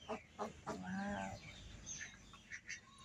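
A brooding duck sitting on her freshly laid egg gives a few short calls and then a longer harsh, honking call, close and fairly quiet, with faint bird chirps after.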